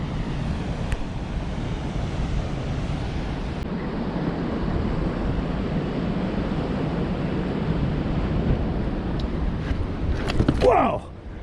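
Ocean surf spraying mist onto slick rocks, a steady loud wash of waves and wind rumble filling the whole stretch, with a brief harder splash near the end.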